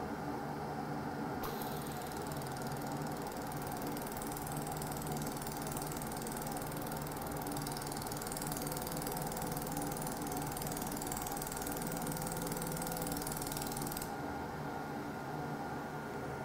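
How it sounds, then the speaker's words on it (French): A CNC fusion assembly machine traces and joins two parts with a steady, continuous mechanical hiss and hum that runs unbroken at an even level for the whole stretch, with no voices. "la machine vient de réaliser du coup le traçage que je lui ai demandé"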